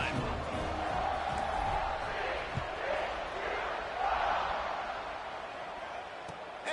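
A football stadium crowd cheers and roars in a broad, sustained wash of noise, swelling and easing with scattered whoops, heard from within the stands.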